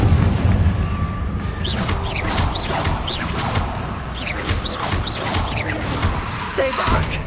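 Confringo fire spells burst in Hogwarts Legacy, a string of booming blasts with crackling debris, repeating through the combat amid occasional voices.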